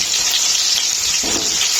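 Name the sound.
fish frying in pan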